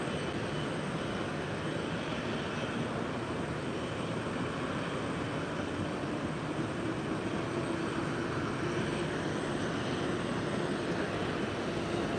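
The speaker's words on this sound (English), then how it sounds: "The CRJ taxiing over here." A CRJ regional jet taxis at Minneapolis–Saint Paul airport, giving off a steady, continuous engine roar and whine at moderate distance that holds unchanged throughout, with no talking.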